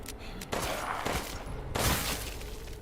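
Gunfire in the survival horror game Resident Evil Village, with bursts of loud shots around half a second and near two seconds over steady game ambience, no talk over them.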